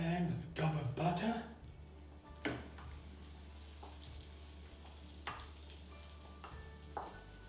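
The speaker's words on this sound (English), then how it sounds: "I'm going to brown my mince mix in a nice hot pan with a dab of butter." Beef mince mix browning in a hot pan with a dab of butter: a soft, steady sizzle with occasional scraping stirs, heard beneath a person talking.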